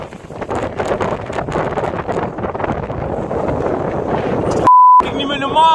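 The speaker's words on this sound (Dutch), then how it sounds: "Het gaat ineens heel hard waaien." Strong wind buffets the microphone in gusty, uneven bursts at an outdoor dig site, loud and close, followed by a brief beep tone near the end.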